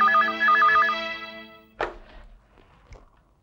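A telephone rings with an electronic trilling tone, two warbling bursts in the first second that fade out, followed by a loud thunk and a softer knock, close and without talk.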